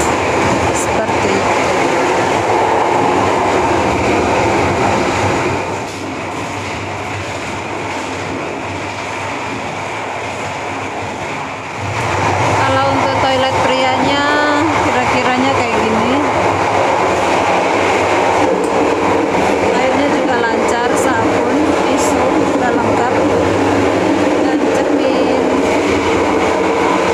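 Steady rumble and rattle inside a moving Sancaka economy premium train travelling between Jogja and Surabaya, loud and continuous, with a dip in level partway through and faint squeals and cabin noise layered on top.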